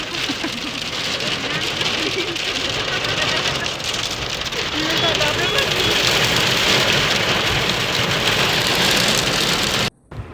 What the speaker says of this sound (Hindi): मैंने इतनी तूफ़ानी बारिश बहुत टाइम बाद देखी।